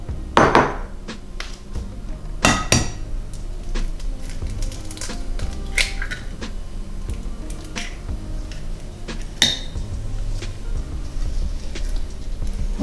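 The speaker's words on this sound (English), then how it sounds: "We are going to mix our egg into the mixture." Egg being mixed into butter and sugar in a bowl, with sharp clinks and taps of a utensil against the bowl at irregular intervals amid quieter scraping and stirring.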